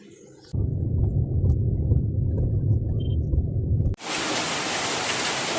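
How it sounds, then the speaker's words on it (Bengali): Rain begins pouring at a rural family home, a loud steady broadband hiss of falling water that swells abruptly midway, preceded by a low rumbling wash. "বৃষ্টি হচ্ছে, আমার শ্বশুর বাড়িতে আসলাম আর বৃষ্টি শুরু হয়ে গেল"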